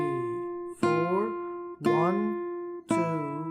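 Three plucked guitar notes of the Jingle Bells melody ring out one after another at an even pace, each struck cleanly and decaying slowly, close and alone.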